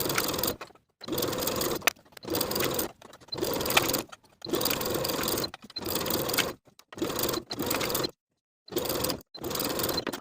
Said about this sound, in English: Sew the sleeve in place with a 3/8 inch seam allowance